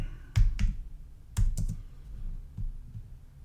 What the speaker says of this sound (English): Just typing in Google.